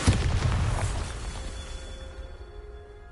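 Bombarda blasting spell explosion in Hogwarts Legacy, a single loud close boom that decays over about two seconds into a faint ringing tail.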